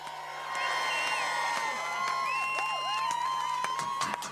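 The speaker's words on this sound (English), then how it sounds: "Hear the cheer as Ingram bashes the podium" Racing spectators at Brands Hatch cheer and whoop at a BTCC podium celebration for race winner Tom Ingram, a sustained crowd roar with whistles heard from a distance.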